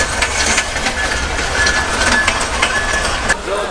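Local train standing at Abdulpur Junction station in Bangladesh, a steady loud rumble of idling engine and rail noise with faint clanks and a thin whine, continuous throughout.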